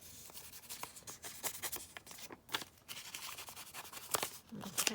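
A pen inks around the edge of a paper image in soft, irregular scratching strokes, close and quiet, with faint rubbing between them.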